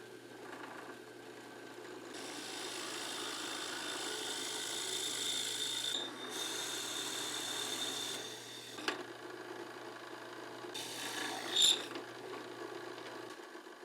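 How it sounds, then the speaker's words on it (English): A 31/64-inch drill bit bores a dowel hole into a wooden workpiece: a close, fairly loud whirring grind that runs in bursts of a few seconds, with short pauses between them and a sharp clack near the end. "To drill the hole for the dowel, I'm going to use a drill bit"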